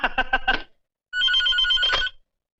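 Telephone ringing in two bursts, a rapid trilling electronic bell followed by a pause and a second longer ring, loud and close with no talking.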